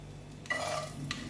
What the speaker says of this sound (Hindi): 1 मिनट तक इसको इस तरह से फ्राई करना है, गार्लिक को